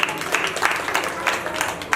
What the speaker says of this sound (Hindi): इनके लिए जरा एक ताली बजा दीजिए।